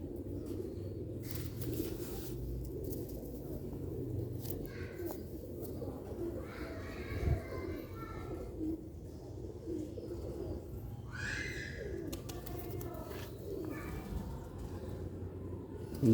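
Low, soft cooing of pigeons repeats throughout, with a few brief higher bird calls over a steady background hum.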